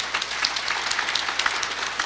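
Audience applause at a public event honoring a mayor and team, continuous dense clapping throughout, moderately loud with no speech.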